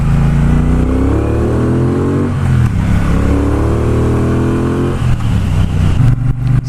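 A 2018 Triumph Bobber Black motorcycle engine pulls hard under acceleration, rising through the revs in two long sweeps with a brief gear change between them. The exhaust note is loud and continuous, with no talk over it.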